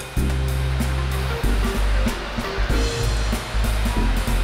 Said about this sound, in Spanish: tomar una picadorcita, bueno, un mezcladorcito que tengamos. Vamos a echar el queso crema